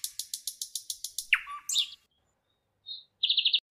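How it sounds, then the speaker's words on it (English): Bright, repeated bird chirps forming a parrot call in a children's phonics song, starting as a quick rhythmic run of tweets, then a squawk and a short pause before a final burst of chirps, heard alone and up close. "P is for parrot."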